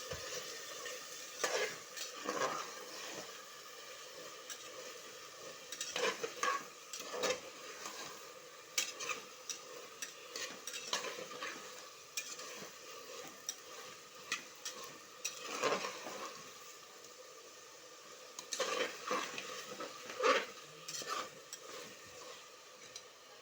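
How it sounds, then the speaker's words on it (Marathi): Potato, cauliflower and peas are sautéed in a pan with a soft, continuous sizzle. Spoon scrapes and clinks against the pan come in scattered bursts, fairly quiet and with no talking. "चांगलं परतून घेऊया म्हणजे भाज्या आपल्याला खायलाही खूप छान लागतात"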